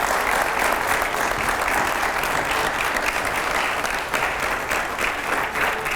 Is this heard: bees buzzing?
no